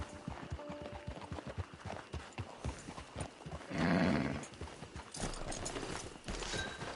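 A horse's hooves clip-clop in Red Dead Redemption 2, a steady rhythm of close, distinct hoofbeats, with a brief louder whoosh midway.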